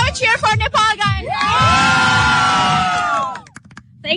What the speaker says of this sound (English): Can I have a cheer for Nepal, guys?